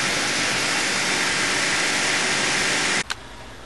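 A machine resurfaces a warped aluminum cylinder head from a Volkswagen Eurovan VR-6, giving a loud, steady hissing roar that cuts off abruptly near the end, followed by a brief clunk.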